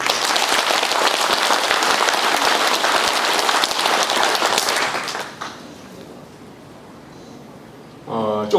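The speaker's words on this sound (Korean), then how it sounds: "크게 박수하시기 바랍니다" A crowd claps loudly and steadily for about five seconds at an outdoor lecture in Suwon held in bad weather. The applause then drops to a quiet murmur, and a voice starts speaking near the end.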